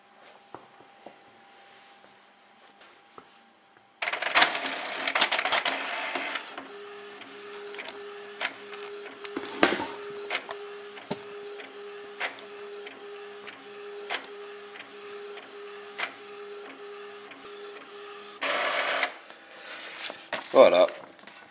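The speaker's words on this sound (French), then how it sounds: "Nous allons lancer une impression." An Epson SX130 inkjet printer running a page on refilled cartridges: a quiet start, then whirring feed motors and a steady mechanical hum, with repeated clicks and carriage shuttles throughout and a few sharper whirs near the end.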